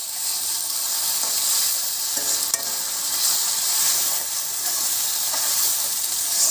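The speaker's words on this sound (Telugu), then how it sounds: "ఇప్పుడు మనం మిక్సీ చేసుకున్న మసాలా పేస్ట్ని ఆయిల్లో వేసేసాం. అది కొంచెం వేగాలి." Ground masala paste frying in hot oil in a pan for a fish curry, a loud, close, continuous sizzle with faint stirring scrapes and no talk.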